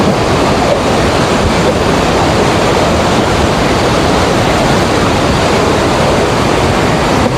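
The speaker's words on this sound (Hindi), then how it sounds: "पानी का बहाव बहुत तेज है।" Fast-flowing river water rushes beneath the wooden Rainbow Bridge at Passu in Hunza, a loud, constant roar with wind buffeting the microphone, no talking over it.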